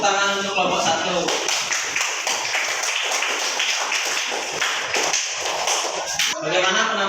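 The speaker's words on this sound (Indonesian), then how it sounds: "Kasih tepuk tangan untuk kelompok 1." An audience claps for a group performance, a dense, steady patter of many hands lasting several seconds with voices mixed in.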